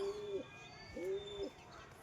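Two soft, rounded coos from a male pigeon follow one another closely, near and clear with nothing else competing.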